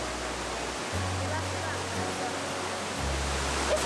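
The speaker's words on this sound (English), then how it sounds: "I didn't think it was this big of a waterfall" Ravana Falls, a large roadside waterfall near Ella, Sri Lanka, gives a steady, dense roar of rushing water throughout, with a low droning tone underneath.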